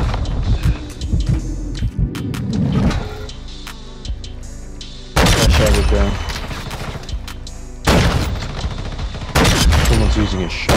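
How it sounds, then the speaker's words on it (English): Loud gunfire from the video game Modern Warfare 2, a sniper rifle among other shots, with sharp reports in bursts and heavy clusters of blasts, mixed with game sounds and voices talking. "Someone's using a shotgun. Sorry, no, that was a sniper."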